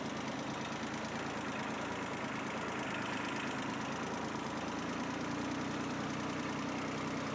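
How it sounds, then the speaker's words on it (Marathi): Tractor engine idling, a low steady rumble with even, continuous vibration and no breaks, quiet throughout. "आता ट्रॅक्टरमध्ये"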